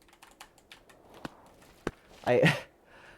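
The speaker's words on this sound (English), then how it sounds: "I don't truly know how intense my keyboard clacks get" Computer keyboard keys clacking during PC gaming, a scattering of sharp taps and clicks with a louder burst of noisy rustle near the end, fairly close and moderate in level.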